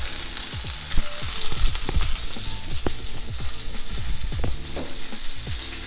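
Spinach and onions fry in a skillet with a steady, close sizzle, while repeated scrapes and clinks of stirring sound throughout.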